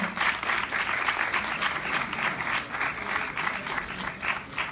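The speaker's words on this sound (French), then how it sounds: "On va applaudir pour Adélia, s'il vous plaît." Applause from the audience at the Miss Afrique 2019 pageant, a continuous crowd of clapping hands with rhythmic surges, fairly loud and steady throughout.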